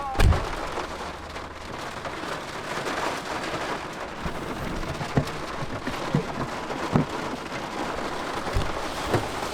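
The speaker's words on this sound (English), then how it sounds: "I just love how we're changing wipers while it's raining." Rain falls during a wiper change on a salvage BMW 340i, a steady outdoor hiss with scattered sharp taps and knocks from close handling throughout.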